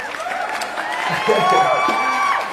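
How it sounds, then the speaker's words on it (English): A gathered audience at a Sunday event welcoming a guest breaks into applause with scattered cheers and whoops, moderately loud and building slightly before easing, with voices mixed into the crowd noise. "Everybody give Nick a round of applause."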